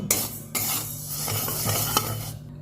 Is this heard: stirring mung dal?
yes